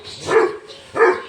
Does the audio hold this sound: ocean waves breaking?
no